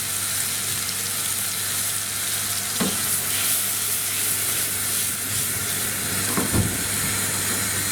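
Salted vegetables cooking in a pan for leek chicken masala, giving a continuous close hiss of frying with a couple of brief stirring scrapes, no voices.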